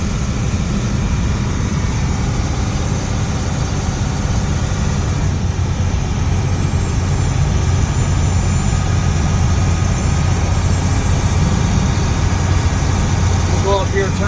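A 1991 International 4900 dump truck engine runs steadily while driving, a constant low heavy drone heard from inside the cab with a faint high whine, loud and unbroken.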